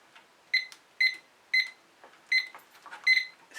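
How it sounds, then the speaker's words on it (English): A new kitchen-style timer beeps in five separate bursts of bright, high electronic tones spaced about half a second apart, close and clear, with faint room noise between them and no talking. "That's my new timer."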